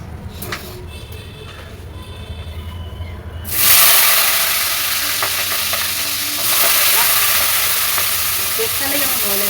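Spring onions, eggplant and new potatoes go into a pan with prawns, erupting into a loud steady sizzle and hiss that holds and swells again partway through after quieter clinks beforehand.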